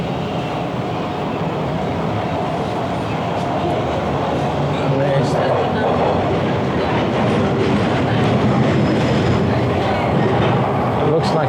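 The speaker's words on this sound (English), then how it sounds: "We're gonna name this the craziest train ride in Toronto." A Toronto subway train on a late-night ride roars steadily from inside the car, with continuous rumbling, rattling wheel clatter and occasional faint squeals, loud throughout while people talk over it.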